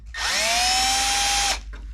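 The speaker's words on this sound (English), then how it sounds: "Just kind of take your drill bit, stick it in the hole" A power drill spins a bit into the hood of an NA Miata for Aerocatch latches, one short whining burst of about a second and a half with a steady pitch, close and loud.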